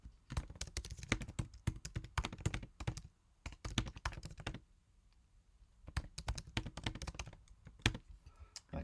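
Rapid typing on a computer keyboard, close and clear, in two long bursts of dense keystrokes separated by a brief quiet pause, with no talking.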